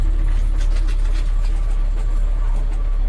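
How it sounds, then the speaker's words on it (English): A 2000 Freightliner FL70 truck with a Caterpillar diesel engine runs steadily, giving a loud, constant low rumble with no pauses from start to finish. "you've got all kinds of power with that Caterpillar engine in it"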